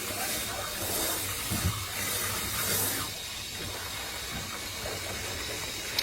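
A HydroSurge dog bathing system sprays shampoo-mixed water over a poodle: a steady, close hiss of spray over a low motor hum, running continuously and easing slightly partway through.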